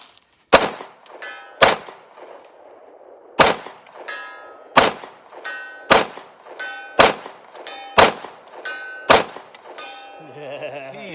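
About eight sharp, fairly quiet gunshots ring out from a CMMG Banshee firing CCI bulk-pack ammunition at a 100-yard range, spaced roughly a second apart, each with a short metallic ring and decay.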